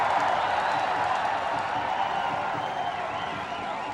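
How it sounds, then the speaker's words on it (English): Cricket crowd at a 1994 Sri Lanka versus India one-day match in Colombo, a dense, steady roar of cheering and applause filling the whole stretch without break, fairly loud and sounding broad and distant. "The crowd loving every moment of this."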